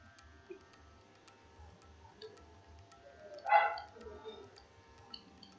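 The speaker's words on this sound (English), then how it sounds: "I'm so sorry about the dogs, guys. Like, all my dogs have just gone crazy today." Several excited pet dogs barking indoors, a louder burst of barks midway among quieter scattered yips and ticking background noise.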